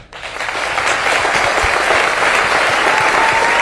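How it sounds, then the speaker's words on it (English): Audience applause at a political town hall in Pennsylvania, a loud sustained wave of clapping from a large crowd that builds quickly and holds steady. "let's give them all a round of applause"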